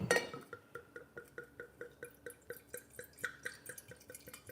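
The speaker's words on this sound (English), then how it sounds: "you want to pour me some wine, babe?" Wine pours into a glass in a steady stream of rapid, rhythmic glugging pulses, close and moderately quiet, with faint glassy clinks and no talk.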